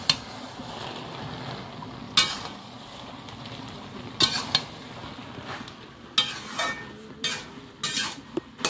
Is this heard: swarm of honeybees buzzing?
no